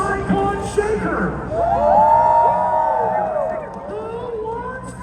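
Crowd of fans at a nighttime beach monster truck show cheering for the Saigon Shaker: sustained roar of voices, whoops and yells swelling to a peak and easing off, loud and broad.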